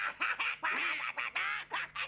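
Ducks quack close up in a quick run of loud nasal calls, about eight in a row with short gaps, and no voices over them.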